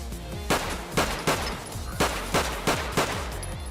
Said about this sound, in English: Forgotten Weapons, Lahti L35 Automatic Pistol